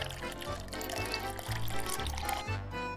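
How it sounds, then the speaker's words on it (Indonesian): Cooking oil pours into a small frying pan in a miniature kitchen, a short steady liquid stream lasting a few seconds over low, rhythmic background tones. "Tuang minyak goreng ke dalam wajan."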